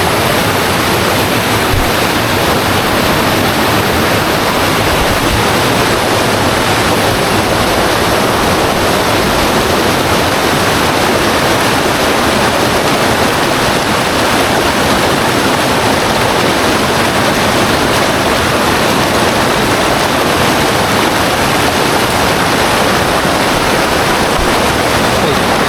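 A river on a mountain trail up Mount Wilis rushes loud and steady as people cross it. Broadband water roar fills the whole stretch with no break.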